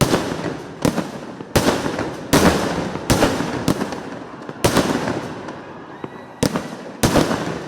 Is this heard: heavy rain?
no